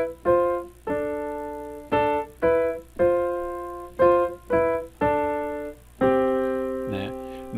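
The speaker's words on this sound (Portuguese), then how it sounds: "esse som que vocês ouviram aqui é o som aí de duas vozes diferentes que estão fazendo a melodia" Two separate melodic voices play together in counterpoint as a series of plucked or struck notes. Each note decays quickly, with a short rhythmic figure followed by a longer held tone at the end, and no one speaks.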